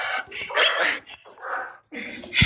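A restless dog barks in repeated, close, loud bursts with short whimpering yips between them, and people talk nearby.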